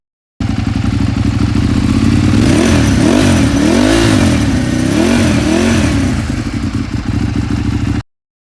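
A 2008 Ducati 848 superbike engine revs hard close by, with several rising and falling throttle blips over a loud, steady mechanical roar that cuts off abruptly after about eight seconds.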